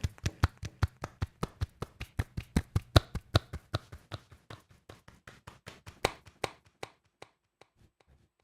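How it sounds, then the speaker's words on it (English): Rhythmic hand claps processed through a delay effect, each sharp clap followed by repeating echoes that gradually fade and thin out toward silence; no talking. "Clapping with delay. Everyone loves clapping with delay."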